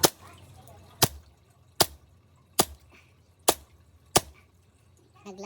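Six sharp gas-blowback shots from a Hi-Capa airsoft pistol crack out one by one at roughly one-second intervals, close and crisp, with near silence between them.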